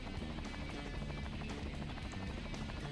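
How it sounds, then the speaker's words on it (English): A helicopter in the video game Metal Wolf Chaos, a steady loud rotor chop pulsing rapidly and evenly throughout, close and alone with no talking. "It looks like he just threw the helicopter at you."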